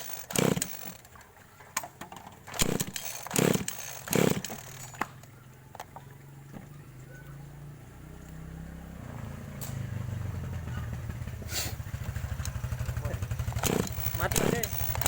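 A small engine on an agricultural sprayer that will not rev up is first pulled and sputters, then catches and runs in a rough, buzzing, uneven idle that grows louder. Someone talks in between the starting attempts.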